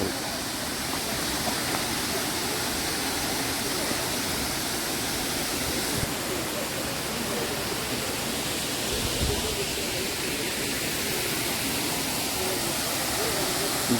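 The Jhari Waterfalls, roughly a hundred metres high, pour with a steady, dense, broadband roar that stays even and close throughout.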